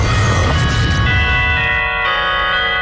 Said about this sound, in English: Christmas bells, those Christmas bells.